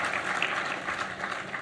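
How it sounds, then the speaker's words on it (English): An audience at an annual seminar opening ceremony applauds with steady, moderately distant clapping throughout the brief moment. "Let's give him a round of applause."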